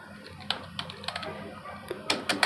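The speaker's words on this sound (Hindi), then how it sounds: "तो यहाँ पे टाइप करेंगे" Someone types a network command on a computer keyboard: sparse, close key clicks spread across the moment, then a quicker burst of keystrokes at the end.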